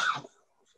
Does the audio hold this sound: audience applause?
no